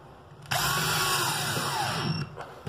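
A power drill whines loudly and steadily for about two seconds as it drives screws into a pet door being installed, starting abruptly and stopping with a brief tail of handling noise.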